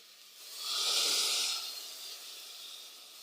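Hot water poured onto sautéed chicken in a pan lets out a quick rising hiss of steam that swells, then fades into a quieter lingering sizzle.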